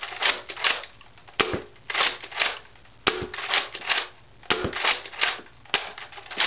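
A powerstocked Quick 16 gun fires several sharp, snappy cracks at irregular intervals, with bursts of clicking and rustling handling noise between the shots.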